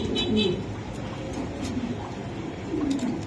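Pigeons cooing close by at a bird seller's, with low, soft, burbling coos rising at the start and again near the end over a steady background hiss.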